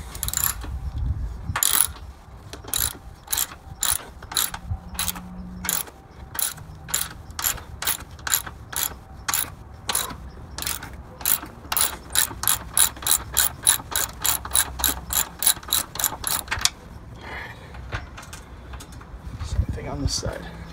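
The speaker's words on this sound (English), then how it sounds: "could use the impact, but we're doing a driveway build here, so I'll use my hand tools on this thing" A hand ratchet wrench loosens a bolt during a spacer lift install on a truck, clicking in long rapid bursts of sharp, close pawl ticks between pauses, some quick and some slower, alone and fairly loud.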